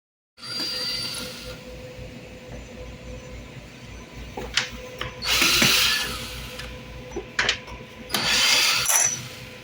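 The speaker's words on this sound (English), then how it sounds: "A little Dremel tool right here, and I'm using it instead of the sponge" Dremel rotary tool scrubbing an old wooden bluebird box in place of a sponge, a steady whirring hum with bursts of louder, harsher grinding as it presses into the wood.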